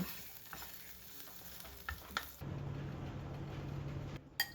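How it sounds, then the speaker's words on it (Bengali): Soybean chunks fry in a kadai, a steady low sizzle swelling in mid-clip after a few soft clinks and stirs, close and moderately loud with no talking. "এই কড়াইতে আমি সয়াবিনটাও ভেজে নেব"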